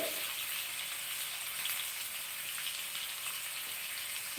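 Tubers frying in oil in a pan over a high flame, giving a steady, even hiss and crackle of sizzling that holds at a constant moderate level throughout.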